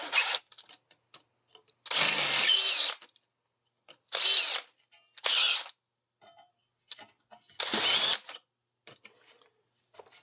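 A drill buzzes in several short, harsh bursts against thin sheet metal that tends to jam the bit, with near silence and small clicks between each burst.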